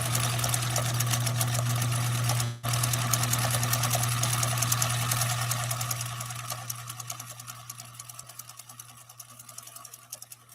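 A sewing machine runs a test stitch, stitch number 4 on the Cam A revised setting, with a steady, close whirring hum that breaks off briefly and then continues, gradually easing in level. No one speaks.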